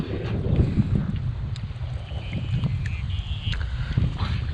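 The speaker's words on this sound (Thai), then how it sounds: "ลมก็เริ่มมาแล้ว เด้อนี่" Steady wind buffets the microphone at a small, hard-to-reach stream during fishing, a continuous low rumbling gust noise that swells and eases throughout with faint scattered clicks.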